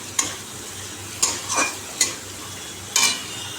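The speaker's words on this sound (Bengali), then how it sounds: "এবার এঁচড়টা এর মধ্যে দিয়ে দেবো এই ভালো করে এবার কষাবো" Young jackfruit, fried earlier, stir-fried in a pan for a Bengali jackfruit curry; a soft sizzle under four or five sharp spatula scrapes and clinks against the pan, close and without talk.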